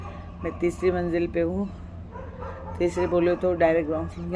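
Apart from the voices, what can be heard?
pet dogs barking from the house below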